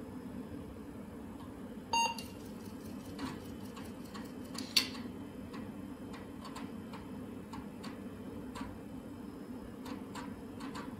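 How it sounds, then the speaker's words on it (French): Short electronic beep from the internal buzzer of a 1995 PC, one bright chirp near the start with a second faint one later, over a steady low hum and faint ticking clicks; no talking. "J'adore ce petit bip émis par le buzzer."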